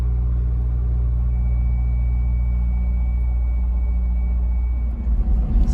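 A 2001 Honda S2000 engine idles just after start-up with a low, steady rumble, close by, shifting slightly near the end.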